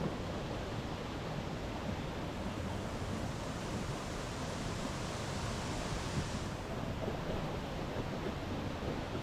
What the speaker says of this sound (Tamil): நல்ல ஒரு வாட்டர் ஃபால்